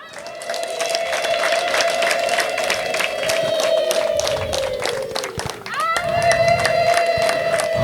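At a Rwandan ceremony a crowd claps steadily while a high sustained ululation rings out over it, breaks briefly, then resumes loud and near.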